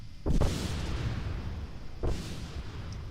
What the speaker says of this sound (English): There goes the rest of the rocket going boom.